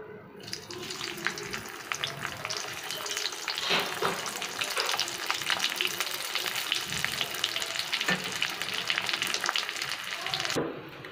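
Bitter gourd pieces fry in hot oil in a pan, giving a loud, steady, close sizzle with occasional stirring scrapes throughout.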